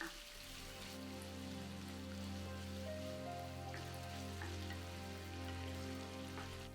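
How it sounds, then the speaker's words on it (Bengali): Sliced potatoes fry in a pan over medium heat while cooking chickpea curry, giving a steady, soft sizzle with faint crackles under a low continuous hum. "ফালি করে রাখা আলু দিয়ে মিডিয়াম আঁচে 2 থেকে 3 মিনিট ভেজে নেব"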